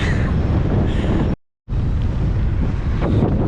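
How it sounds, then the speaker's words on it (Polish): Strong wind buffeting the microphone on the coast at Corralejo, Fuerteventura, a loud, rough roar that is cut by a short silent dropout midway and then returns just as gusty. "Troszkę wieje."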